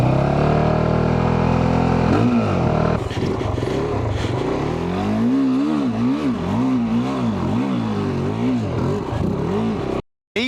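A Kove 450 lightweight rally and adventure motorcycle rides off-road through wet, boggy ground. Its engine sounds close and revs in repeated rising and falling surges before cutting off abruptly at the end.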